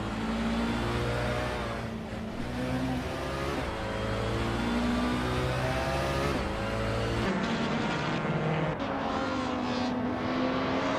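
The engine of a 2006 BMW 320si in a racing video game drones steadily, rising in pitch through the gears with brief dips at each shift, near and continuous, then changing tone sharply toward the end.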